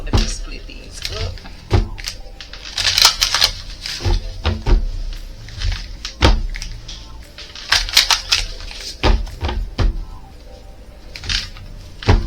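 A deck of tarot cards being shuffled by hand, with a run of sharp, clustered riffling and tapping bursts at an uneven rhythm, close and fairly loud, and a voice speaking now and then.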